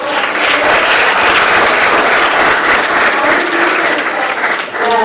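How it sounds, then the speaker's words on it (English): Audience applause fills a presentation hall at a finance education event, a steady dense wash of many hands clapping at full loudness for about five seconds, dipping briefly near the end. "Big round of applause."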